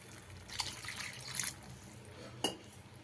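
Faint, brief splashes of a little water poured into a pan of brinjal curry, a few short bursts in an otherwise quiet kitchen.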